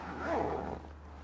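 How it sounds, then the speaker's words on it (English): A YKK AquaGuard water-resistant zipper on a backpack is pulled in one short, smooth, close rasping stroke lasting about a second, with no one speaking. "Has YKK AquaGuard zippers all the way around the bag"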